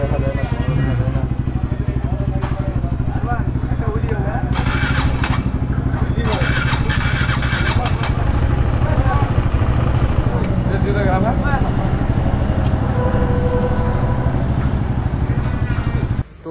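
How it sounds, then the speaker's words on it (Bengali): A motorcycle engine that had been sitting unused for a long time runs loudly and close by in a steady idle drone, with brief revving swells as people talk over it. "তো বাইকের ইঞ্জিন তো রেডি হয়ে গেছে"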